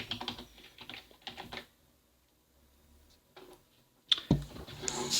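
Keys on a computer keyboard clatter in quick irregular bursts, close and fairly loud, with a short pause in the middle before the typing resumes.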